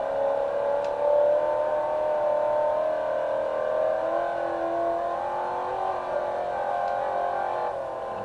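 A 1965 Ford Mustang GT coupe racing downhill at speed, its engine a steady, loud droning roar with sustained harmonic whine, continuous and close without pauses.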